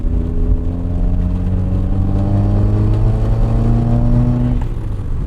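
Car engine humming and rising steadily in pitch as a vehicle drives along a bumpy road in a racing video game, loud and continuous throughout with no voices.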